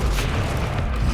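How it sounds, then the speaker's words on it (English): A single heavy, booming shotgun blast from the game Resident Evil Requiem, loud and low with a dense rumbling body that fills the whole short moment. "I guess I have to take it out with a shotgun."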